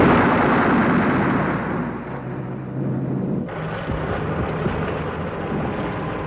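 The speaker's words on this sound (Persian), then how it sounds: "برج ترکید" A tower blowing apart in a radio drama sounds as a big, roaring explosion that starts loud and broad, then settles into a long rumbling tail of falling debris with a sharp shift partway through.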